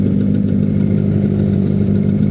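Vespa Excel scooter engine running at idle, a steady close low burble with a fast regular pulse and no revving.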